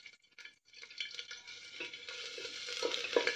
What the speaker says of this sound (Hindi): तेल गर्म हो गया है, इसमें हम डाल देंगे लहसुन की कलियाँ।